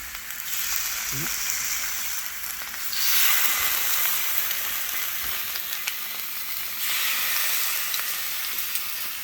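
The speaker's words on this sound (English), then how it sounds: "Hear that sizzle." Marinated chicken sizzling on a hot grill, a loud steady hiss that swells in bursts as pieces are added and shifted, close up, with a faint voice briefly underneath.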